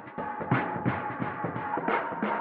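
A dark, gritty drum layer pitched low and formant-shifted, with heavy hits landing in a steady rhythm and a murky, grinding tone between them.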